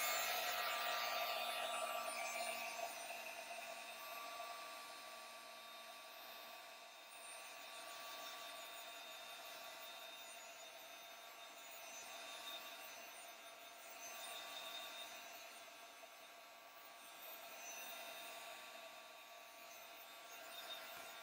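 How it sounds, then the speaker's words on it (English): A heat tool blows steadily for about twenty seconds while setting alcohol inks on a mixed media cigar box cover, a faint, even whirring hiss with slight swells and no talking. "So let's give them a quick heat set."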